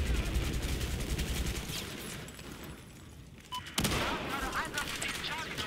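Battlefield 4 multiplayer: rapid gunfire crackles in dense bursts alongside booming explosions, loud and close, dipping briefly before another heavy blast and more shooting.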